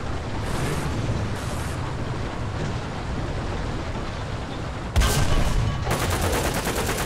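Gunfire in the War Thunder combat game, a rumbling spread of shots and blasts that steps up into a louder, sharper rapid burst near the end, with no talking.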